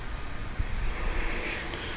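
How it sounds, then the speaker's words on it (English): An American Airlines jet at DFW International Airport, heard as a steady, broad roar of engine and wind noise that swells slightly as the aircraft passes, with no voices over it. "Here comes a plane."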